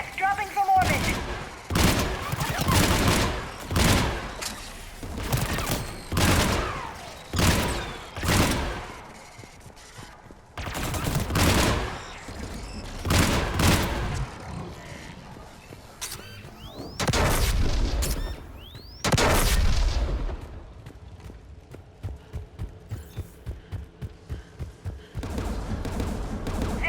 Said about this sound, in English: There, the anti-aircraft guns.